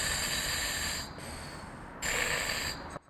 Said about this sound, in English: you can hear his breathing.